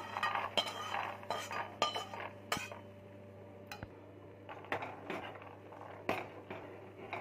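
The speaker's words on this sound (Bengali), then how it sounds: "এবার আমরা মাখানাগুলো দুধের মধ্যে দিয়ে দেবো।" Makhana (fox nuts) are added to milk in a pot, giving quiet, intermittent clinks and taps of a metal spoon against the cookware, separated by soft pauses.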